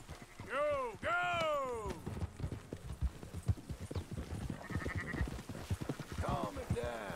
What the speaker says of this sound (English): I guess he was rounding up all of the sheep